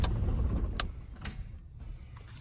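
A 1998 Toyota Hilux turbo diesel 4x4 shutting off: its close, low engine rumble fades away over a couple of seconds, with a few sharp mechanical clicks.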